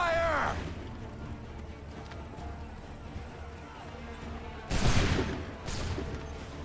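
A musket volley from soldiers in Assassin's Creed III cracks out loud and sharp near the five-second mark, followed by a second burst, after a shouted command and amid background battle noise.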